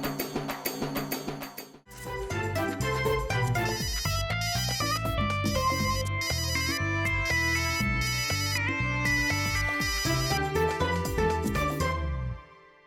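Phone ringtone playing a loud melodic tune for several seconds, clear and close, after a brief ringing burst at the start.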